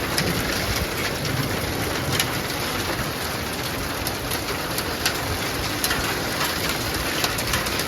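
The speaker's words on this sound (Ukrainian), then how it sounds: "Почався дощ, почався град знову." Steady, loud rain and hail pelting a surface, a dense constant hiss with scattered sharper impacts and no speech.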